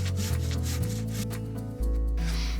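Wooden fence timber for a picket or palisade fence being cut to size with a saw: a steady, close, loud cutting drone that shifts pitch several times as the blade bites, ending in a louder final stretch.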